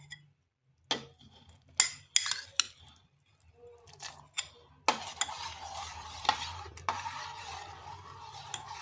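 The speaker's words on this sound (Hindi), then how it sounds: "अच्छी तरह कस्टर्ड डालने के बाद हमने इसको चलाते रहना है।" Custard with vermicelli being stirred in a pot, a spoon scraping and tapping against the metal in irregular strokes, with intermittent clinks and a light bubbling bed building toward the end.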